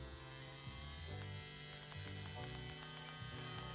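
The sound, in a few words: CNC P6 customized X1 motor running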